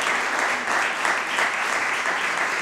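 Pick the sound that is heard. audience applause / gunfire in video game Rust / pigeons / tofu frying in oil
audience applause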